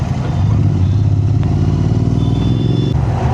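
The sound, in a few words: Porsche exhaust note while riding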